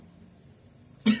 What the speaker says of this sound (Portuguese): tossindo de novo